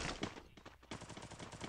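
Rapid bursts of gunfire from an online shooter video game, dense repeated shots running through the whole stretch with a brief lull midway, loud and close.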